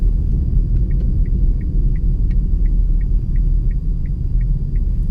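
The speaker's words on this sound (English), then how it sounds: "Let's watch as we drive around a few tight junctions in this residential area." A car driving slowly around tight junctions in a residential area, heard from inside as a steady low rumble, with a regular faint ticking like an indicator running through it.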